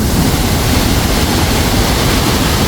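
A loud, steady roar of rushing water pours without pause, dense and close, from Kuang Si waterfall in Laos after a flood.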